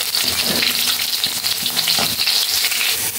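Tofu frying in hot oil in a wok, a steady, dense sizzle and crackle running throughout at close range, with a few soft stirring knocks and no talking.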